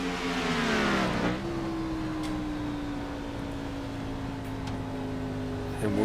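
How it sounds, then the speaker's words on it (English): A race car engine in an Xfinity Series racing video game at Darlington gives a loud, steady in-car drone that dips briefly in pitch, then holds a constant buzzing roar. "we'll jump in and we'll crank it up here inside of Chris Samard's car tonight, who is leading"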